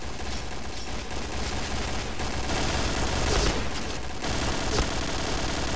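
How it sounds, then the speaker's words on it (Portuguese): Sustained bursts of gunfire in the online shooter Point Blank, dense rapid automatic fire that runs continuously and loudly throughout with no pauses. "Tô tomando tiro, velho."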